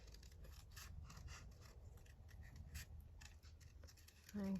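Paper is cut with scissors in a series of quiet, rhythmic snips and scrapes, faint and close, with a brief louder bump at the very end.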